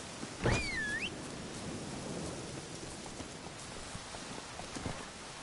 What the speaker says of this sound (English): We'll go there on horse.